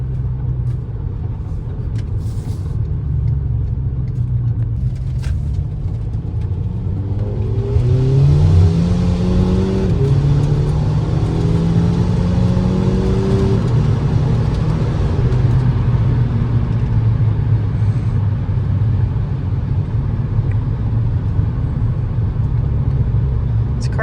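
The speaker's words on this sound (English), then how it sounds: "don't mind the hissing noise. It has an exhaust leak that I need to sort out." A Volkswagen Fahrenheit GLI on the Mark V platform drives with an exhaust leak, its steady engine rumble swelling as revs climb partway through, then settling back into a constant drone with no talking.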